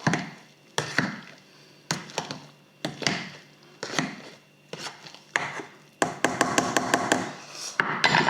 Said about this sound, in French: Le presse purée.